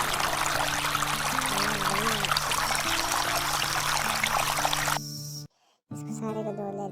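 Water poured out steadily to wash down a children's playhouse, a constant splashing rush that briefly stops before resuming, with kids' voices chattering over it.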